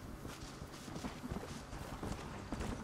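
A horse's hooves clip-clop at a steady walking rhythm in the Western game Red Dead Redemption, the close, repeated thuds carrying on evenly without pause.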